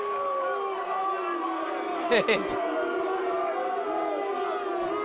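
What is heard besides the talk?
football crowd booing the linesman's flag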